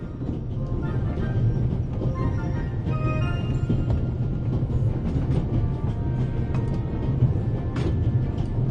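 A train ride in the mystery adventure video game The Raven fills the scene with a steady, low rumble of rolling carriages and faint metallic creaks, with no talk heard.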